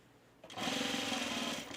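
A sewing machine starts up and stitches a halter top, a close, steady mechanical whir running continuously after a brief quiet start.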